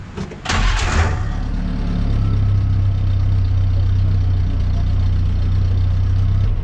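A 1946 Willys CJ2A with its 134 cubic inch L134 L-head four-cylinder fires up with a brief burst, then settles into a loud, steady, close idle with a low even throb.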